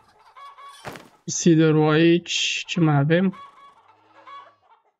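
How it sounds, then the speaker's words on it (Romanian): A hen clucking in the farming video game Farmer's Life, a few loud drawn-out squawking clucks in separate bursts, with brief quiet speech before them. "avem o găină, trebuie să o luăm un pic și să o tranșăm să avem niște carne"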